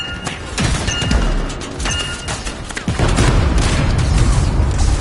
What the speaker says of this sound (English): Explosives ready. Stand clear for detonation.